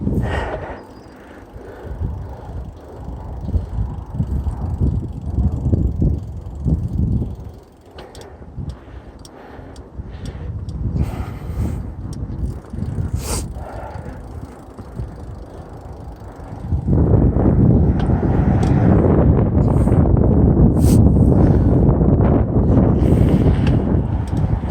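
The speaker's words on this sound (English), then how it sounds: "it's windy." Strong gusting wind roars across the microphone during a mountain bike ride on a trail, with bike rattles and clicks underneath, the buffeting rising and falling then turning heavy and constant in the latter part.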